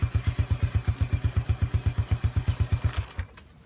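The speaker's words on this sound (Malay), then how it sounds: "Apa kata kau beruang pergi tengok dengan tutup enjin motosikal tu?" A motorcycle engine idles with a regular, rapid chugging pulse, close and steady for about three seconds before it cuts off, leaving a faint fading rattle.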